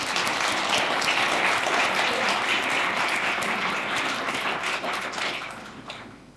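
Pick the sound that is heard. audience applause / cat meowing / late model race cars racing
audience applause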